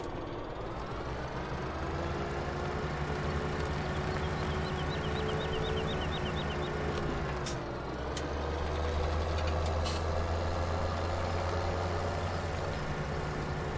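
Tractor engine in Farming Simulator 17 running steadily with a low droning hum, continuous and fairly loud throughout with a slight dip in pitch midway, no talking.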